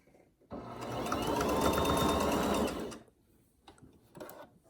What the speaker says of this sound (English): Cover it completely with the fabric and sew till the edge.